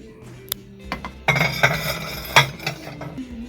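Plates and dishes clink and knock together in a store, with a string of sharp ringing contacts of ceramic and glass, some loud and close, spread irregularly across a few seconds.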